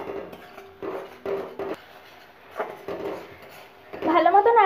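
Fish roe is stirred in a pan with soy sauce and red chili sauce: close clattering scrapes and knocks of the utensil against the pan in irregular bursts, with a voice briefly rising near the end.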